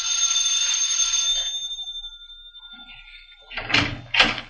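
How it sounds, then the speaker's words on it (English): Bell rings on a door in a radio drama, a bright sustained ring fading over a couple of seconds, followed by two close door bumps or knocks. "First, I rang the bell."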